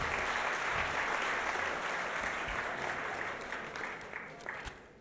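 Audience at an academic leadership award ceremony applauding, a dense, steady clapping from a large crowd that gradually fades toward the end.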